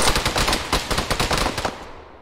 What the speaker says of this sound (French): j'ai entendu les tirs